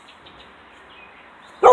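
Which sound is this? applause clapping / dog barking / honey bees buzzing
dog barking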